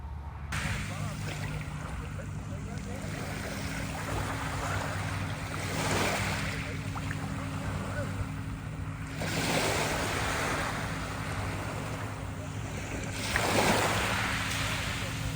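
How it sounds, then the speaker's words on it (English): Surf washing onto a beach in Homer, Alaska, a steady broadband wash with swells rising and falling every few seconds, moderately distant, with wind buffeting the microphone. "So we're on the beach in Homer."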